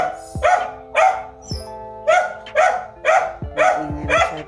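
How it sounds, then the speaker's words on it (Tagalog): A dog barks repeatedly outdoors in the Philippines, a run of about seven loud, close barks in a steady rhythm, with no talking. "Maingay masyado ang aso ko."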